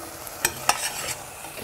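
A mushroom stew of three kinds of mushrooms fries in a pot on a gas stove. A soft sizzle sits under two sharp stirring scrapes and a few lighter strokes.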